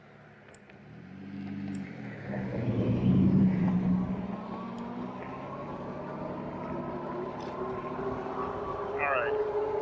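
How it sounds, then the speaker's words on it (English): A truck passes along a road beside a cyclist on an electric bike, its engine rumble swelling steadily to a peak and then easing away, with a continuous drone throughout. "Right, there's a truck. I'm gonna let the truck go by first."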